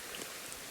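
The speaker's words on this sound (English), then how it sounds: "It's fucking hammering down, really heavy rain." Heavy rain hammering down outdoors on a walking route from Inverness to Beauly, a steady close hiss of drops with no voices.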